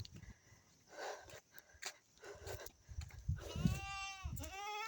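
Goats bleating in their pen, several wavering, nasal cries rising toward the end, mixed with shuffling and rustling close by, with no talk over them.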